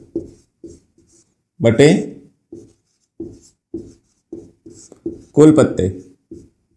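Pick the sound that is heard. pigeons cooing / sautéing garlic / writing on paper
writing on paper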